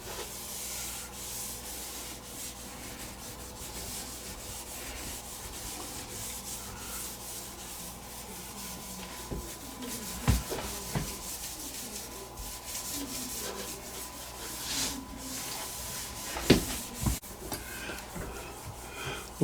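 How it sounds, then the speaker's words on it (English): Steady abrasive rubbing works over the finish on a Kibler Fowler wooden gun stock, a continuous close scratchy hiss with a few sharper knocks and scrapes partway through, no talking. "Rub it back a little bit here."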